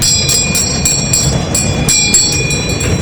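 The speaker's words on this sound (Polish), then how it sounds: "Teraz Agnieszka z Patryczkiem jadą takim kamiennym pociągiem." A stone-themed train ride at the Rabkoland amusement park in Rabka-Zdrój rumbles into a tunnel, giving a loud, steady rolling rail clatter with faint high whines and no talk.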